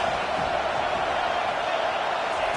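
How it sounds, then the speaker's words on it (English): A stadium crowd roars steadily behind the home defense on third down in an NCAA 25 college football game, a dense, unbroken wash of cheering that holds at a constant loud level throughout. "Decibels rising as the crowd gets behind this defense on 3rd down"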